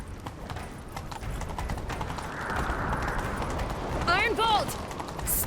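Horse hooves clip-clopping at a gallop in The Witcher 3, a steady rapid drumming across the scene with a horse's whinny near the end, while character voices talk over it.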